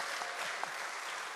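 Brief, full applause fills a school chapel gathering, a dense continuous wash of many hands clapping at once with no talk over it.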